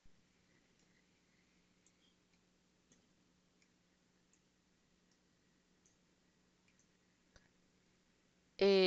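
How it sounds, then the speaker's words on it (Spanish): A few faint, sparse computer mouse clicks, including a right-click, while using structural modeling software in a quiet room, then a sudden loud burst at the very end. "Le voy a dar acá clic derecho"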